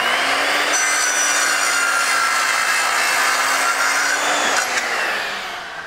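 A powerful electric saw rips steadily through wood clamped on a sturdy sawhorse, a loud close-up buzzing whine lasting several seconds before tapering off at the end of the cut, with no voices.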